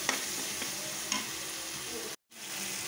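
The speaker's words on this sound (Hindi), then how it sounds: "ऐसे ही हम अपने मसाले को भून लेंगे।" Spice masala with crushed cardamom roasts in a pan for an aloo gobhi gajar mixed vegetable dish, giving a dense continuous sizzle with a few scraping stirs and a brief drop to silence near the end.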